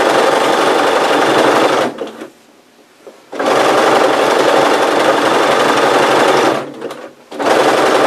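A sewing machine runs loud and steady as it stitches through all the layers of a patchwork apron tie, in two long bursts separated by short pauses.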